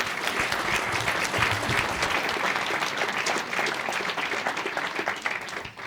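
Applause for a speaker at a municipal New Year's greetings ceremony in Nilvange: a hall full of people clap steadily and densely, holding an even level before thinning out right at the end.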